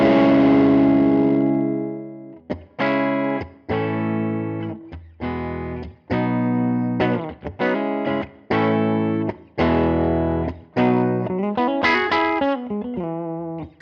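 A distorted electric guitar through a Line 6 Helix amp modeler, Grammatico amp and Dhyana Drive, plays a long sustained chord, then a series of choppy, punchy chords with short gaps, crunchy and loud.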